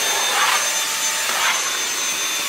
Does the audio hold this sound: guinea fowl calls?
no